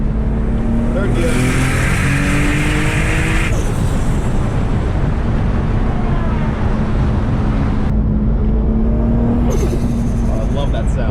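A turbocharged Lexus IS300 pulls hard in third gear, its engine roaring loud and close from inside the car with a steady rising drone and a brief shift-like dip near the end; a voice is heard over it.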